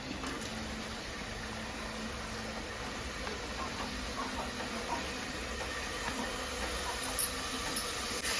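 Onions frying in coconut oil in a pan give a steady, even sizzling hiss that continues without a break, with no voices over it.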